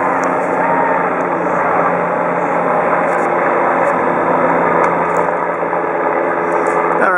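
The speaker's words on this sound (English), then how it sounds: "we have a helicopter flying over" A helicopter flies overhead on a mountaintop during a Southern California blackout, a loud, steady broadband engine roar with a low droning hum that holds constant throughout without talk.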